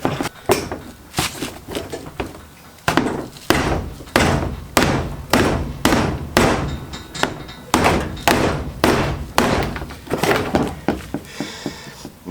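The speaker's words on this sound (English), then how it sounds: "I'll try a bit of persuasion with the old ball peen hammer" Repeated metal hammer blows from a ball peen hammer knocking a car bump bar back into shape in a panel repair workshop, a steady series of loud, close thuds and knocks spaced about every half second.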